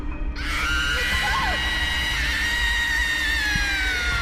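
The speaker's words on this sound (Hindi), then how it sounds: "कोई कुछ समझ पाता उससे पहले एक और चीख गूंज उठती है" A long, shrill scream rises and slowly falls over a loud, rumbling background, sustained for several seconds.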